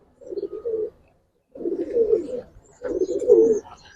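Game pigeons coo in three close, throaty bursts separated by short pauses, alone without any talking.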